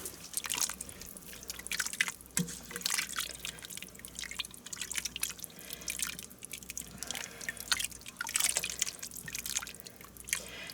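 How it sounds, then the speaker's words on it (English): Thick white chicken chili with cream cheese and heavy cream being stirred in a pot, wet squelching and soft dripping sounds repeating steadily at close range, fairly quiet. "now let me stir this all up"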